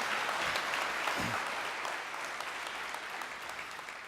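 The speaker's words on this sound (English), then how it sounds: "Let's give him a warm round of applause and get him up here." A conference audience gives a keynote speaker a steady round of warm applause, a dense, even wash of clapping from a large crowd that holds for several seconds.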